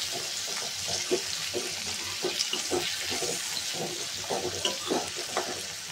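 Tomatoes sizzle and fry steadily in a hot pan for a Restaurant-style matar paneer, with a dense continuous crackle and occasional soft stirring scrapes, close and even throughout.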